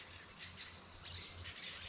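Agitated birds squawk and chatter outdoors, faint and somewhat distant, with harsh calls rising over a steady low background hum.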